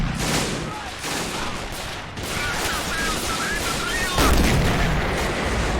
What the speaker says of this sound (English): it doesn't look like friendly artillery is firing, so that's got to be Soviet